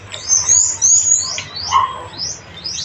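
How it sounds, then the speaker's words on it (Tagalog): Birds chirp during a rambutan harvest outdoors, giving a series of close, fairly loud rapid tweets in irregular bursts, with no talk. "Tweet, tweet, tweet."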